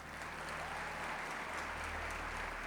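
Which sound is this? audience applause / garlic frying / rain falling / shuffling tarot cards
audience applause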